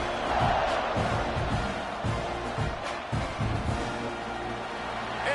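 A stadium crowd in the college football game NCAA 26 roars steadily during a Texas versus Texas A&M matchup, a broad wash of cheering with rhythmic thumps and claps pulsing underneath.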